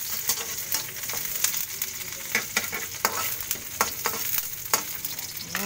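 Onion frying and splattering in hot oil in a pan, a constant sizzle broken by frequent sharp pops and crackles, close and fairly loud, with no speech.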